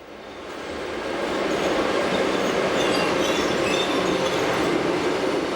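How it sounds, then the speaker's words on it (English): A Rhaetian Railway Glacier Express train rumbles steadily at Chur station beside standard gauge tracks, the broad rolling noise swelling over the first two seconds and then holding loud and even, with no voices. "Our train must make a reversal here"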